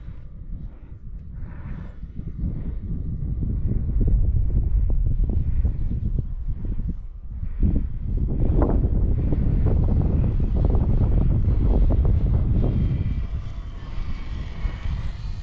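Wind gusts across an RC plane flying field where an E-flite Valiant 1.3M is flown, producing a steady, heavy low rumble that swells and eases over the whole stretch.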